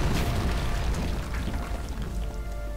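A game explosion destroys enemies and a tower in War of the Ring, a Lord of the Rings strategy game, heard as a dense, sustained low rumble with crackling debris, loud and continuous through the whole stretch.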